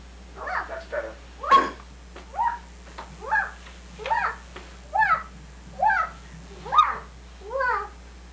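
A person imitates a dog barking, giving about eleven short voiced woofs in a steady, evenly spaced rhythm, close and moderately loud over a low background hum.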